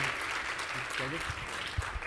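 A conference audience applauds a food-systems panel in a short, dense burst of clapping with voices talking over it.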